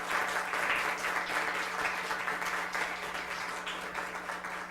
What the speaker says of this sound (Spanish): No nos queda más que agradecer la charla con un aplauso.